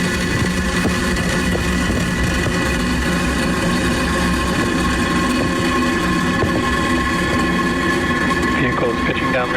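A SpaceX Falcon 9 rocket's engines roar after liftoff on a Starlink mission, a loud, steady, broadband rumble that holds without a break.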